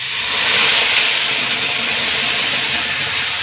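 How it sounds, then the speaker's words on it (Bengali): Onion, garlic and ginger fry with spices in a pan, giving a steady broadband sizzle and hiss that stays loud and even throughout, with no speech. "পেঁয়াজটা এখনও কষানো হচ্ছে"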